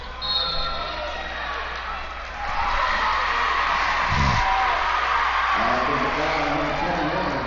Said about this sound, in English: That brought a big cheer from the crowd.